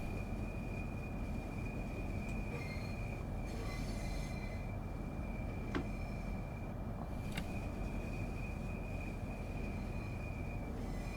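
In Train Sim World 5, a train pulls slowly into a station, its wheels squealing in a sustained high whine over a low rumbling roll, with a few sharp metallic screeches.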